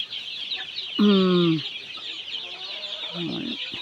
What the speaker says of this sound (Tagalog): Ayun yung mga piso, oh.